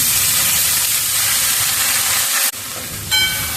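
French beans stir-fry with green chilli paste in a pan, giving a loud, steady sizzling hiss that breaks off briefly and then resumes at a lower level.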